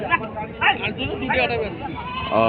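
A castrated desi cross male goat bleats a few times at a busy 2025 goat market in Ambari, its calls rising over close conversation and crowd babble.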